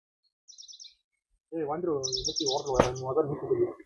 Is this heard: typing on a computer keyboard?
no